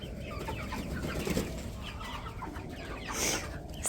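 Cornish cross meat chickens kept alongside regular laying hens cluck and murmur softly in a continuous low chatter, close by, with a higher squawk near the end.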